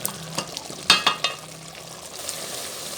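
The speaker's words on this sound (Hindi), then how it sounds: "भूनना है अच्छे से, इतना भूनना है कि इसका मसाला जो है इसका कच्चापन दूर हो जाए" Masala and meat for aloo gosht frying in a pan while being stirred, with a few loud scraping stir strokes over a soft steady sizzle, close by.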